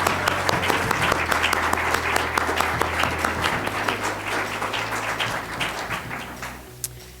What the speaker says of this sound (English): let's show him how much we appreciate it with a warm applause